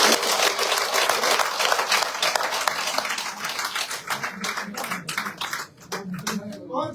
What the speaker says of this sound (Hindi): जज साहब जोरदार तालियों के साथ